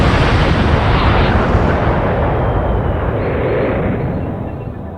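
A huge explosion effect standing for the Big Bang, a loud sustained roaring blast with dense rumble that fills the whole span and slowly fades toward the end.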